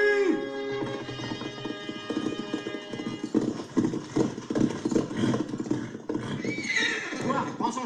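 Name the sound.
horse hooves clip-clopping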